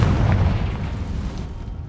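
Confringo spell explosion in the video game Hogwarts Legacy, a heavy booming blast with a rumbling low end that rolls on and gradually fades over two seconds.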